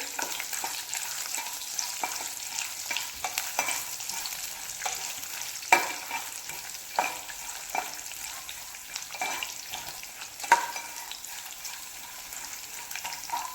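Peanuts and green chillies roasting in oil in a pan, a soft continuous sizzle with scattered spoon scrapes and a couple of sharper knocks, close and fairly quiet, no voices.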